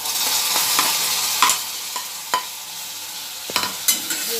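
Bitter gourd pieces frying and being stirred with onion in a pan, giving a steady sizzle broken by several sharp scraping stirs, close and fairly loud with no talking.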